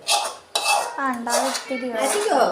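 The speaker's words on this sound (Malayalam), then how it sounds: "നമുക്ക് പാത്രം മാറ്റാം." Plates being moved and swapped, with loud nearby clatters and ringing clinks of dishware in several bursts that set off resonant tones.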